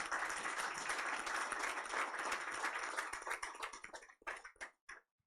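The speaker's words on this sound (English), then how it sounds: "I really invite a round of applause for them." An audience applauds at a letter-of-intent signing ceremony for the NLNG Train 7 project, dense clapping that thins out into a few scattered claps before fading to silence.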